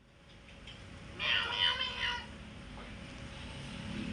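A cat gives a single clear, drawn-out meow in the middle, close and fairly loud over a quiet outdoor background.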